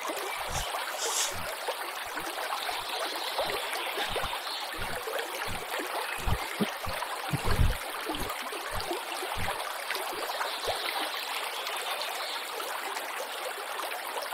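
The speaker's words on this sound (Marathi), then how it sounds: "का जबरदस्त पाण्याचा आवाज येऊन राहिला" A loud stream rushes steadily through dense forest along a cave trail, a constant broad wash of flowing water with repeated low thumps of footsteps or handling close by and no talking.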